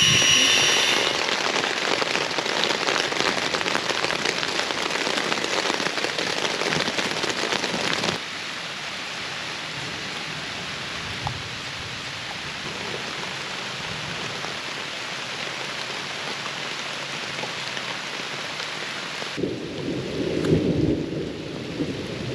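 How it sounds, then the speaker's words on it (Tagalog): Heavy rain pours steadily at a lakeside campsite during motocamping, a dense continuous hiss with a change in tone midway and a louder rumbling gust near the end. "hindi na talaga tumigil yung ulan"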